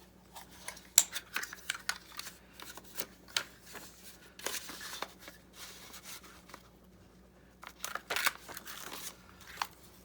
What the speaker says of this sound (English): Let's cut one out of here.